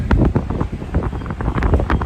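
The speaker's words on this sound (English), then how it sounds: "It's a bit windy up on the cliff." Strong gusting wind buffets the microphone on a clifftop in breezy weather ahead of a rainstorm, a loud, continuous rumble with repeated harder gusts.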